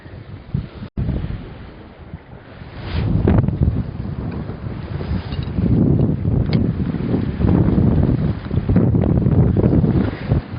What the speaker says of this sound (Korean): 파도가 점점 세지는데요. 파도가 위에까지 막 올라오는데